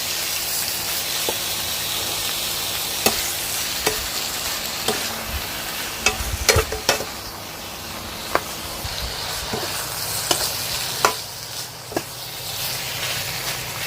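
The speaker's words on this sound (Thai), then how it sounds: "ผัดให้ไก่กับพริกแกงเข้ากันดีเลยจ้ะ" Chicken and curry paste sizzle and hiss in a hot pan while a spatula scrapes and clacks against the metal at irregular intervals, close by.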